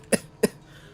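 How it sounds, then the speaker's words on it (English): Two quick, dry coughs about a third of a second apart, close and fairly loud in a quiet room. "I'm coughing a little bit"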